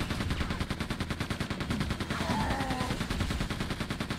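Rapid automatic gunfire from enemies shooting each other in the shooter game Quake II, a dense continuous rattle of overlapping shots filling the whole stretch at steady loudness.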